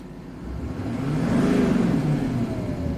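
A Duramax diesel pickup engine runs just above idle, a low steady drone with a faint whir that swells slightly in the middle and then holds, close by and without voices.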